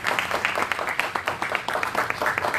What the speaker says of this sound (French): Donc applaudissez-les pour moi, s'il vous plaît.